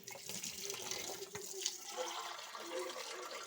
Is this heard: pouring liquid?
yes